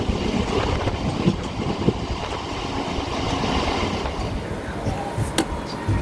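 Local train rolling through Khana Junction, a steady loud rumble of wheels and carriage rattle with faint clickety-clack, a brief high squeal near the end, heard from on board.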